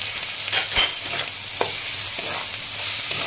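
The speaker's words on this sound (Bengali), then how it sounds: "মশলাটা একটু হাফ ভাজা হয়েছে" Ground spices with salt, chilli and cumin powder frying in a pan for Bengali chicken keema, a soft steady sizzle with a few stirring scrapes and clinks, close and without talk.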